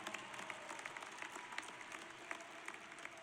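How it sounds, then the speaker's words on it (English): Audience applause for graduates at a university commencement ceremony, a faint, steady wash of many hands clapping at a distance, with scattered sharper claps standing out and no voices. "So let's give our graduates a big round of applause."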